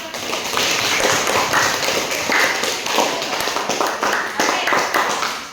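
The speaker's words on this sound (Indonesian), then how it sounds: "Dari pembelajaran hari ini tepuk tangan dulu dong." A classroom of students applauding together, dense rapid clapping that stays steady and loud for several seconds, close by, with some voices mixed in.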